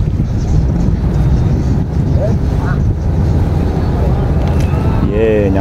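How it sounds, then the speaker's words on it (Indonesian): A motor boat from Anyer docks at the Sebesi Island pier with a loud, steady engine rumble and wind buffeting the microphone, and a voice briefly speaks near the end. "kapal motor yang kami tumpangi dari Anyer sudah benar-benar merapat di dermaga Pulau Sebesi"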